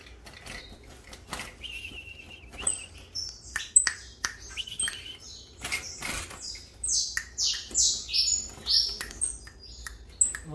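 A Granadinha canary sings close by with quick rising whistled notes that build into a rhythmic run of bright repeated phrases, alongside scattered chirps, rustling and faint clicks in a quiet setting.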